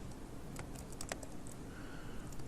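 Typing on a computer keyboard, a run of soft, quick key clicks at close range with no voices.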